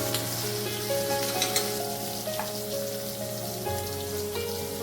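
Ivy gourd (tendli) bhaji sizzling in a pan, a continuous close crackle and hiss with small pops, alongside a steady tonal hum, with no talking.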